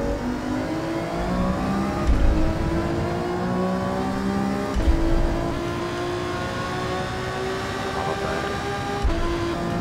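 The Alfa 155 DTM race car in Gran Turismo 7 runs with a loud, continuous engine drone, its pitch climbing through gears with brief dips at shifts, near and steady throughout.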